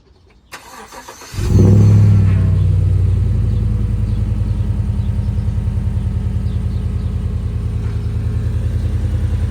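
A 2015-2020 Chevrolet Tahoe engine cranks briefly and catches with a loud surge, then settles into a steady, even idle rumble up close with no talking.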